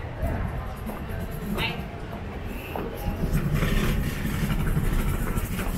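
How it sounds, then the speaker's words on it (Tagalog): Motorcycles and traffic pass along a busy street outside the University of Santo Tomas campus in Manila, a steady low engine rumble that swells louder toward the end, with voices talking over it. "May mga motor pa dito, oh."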